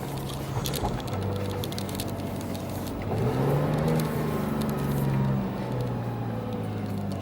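A 2018 Porsche 911 Turbo engine heard from inside the car during a ride along, a steady droning hum that climbs in pitch and swells louder midway before easing back, with road noise underneath and no talking.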